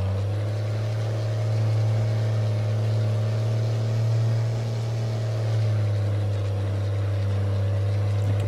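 A weak truck engine labours steadily uphill on a rough shortcut, losing power, its deep, even drone filling the whole stretch at a constant moderate level with no talk.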